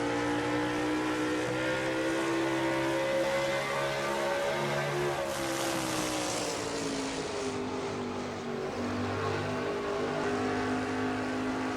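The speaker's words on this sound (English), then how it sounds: "That is one mean sound under the hood of that Dodge of Seth Cole right there" Engine of Seth Cole's Dodge race truck roaring steadily on the Milwaukee oval during an NNSCRA pickup truck series race, a loud sustained drone with shifting pitch as the truck comes through the turn.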